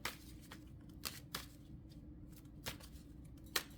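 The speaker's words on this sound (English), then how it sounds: "so Pisces, let's get your cards pulled, dear" Tarot cards shuffled by hand during a Pisces reading, a few sharp riffling bursts spaced through the clip over a low steady room hum, close and fairly quiet, with no talk.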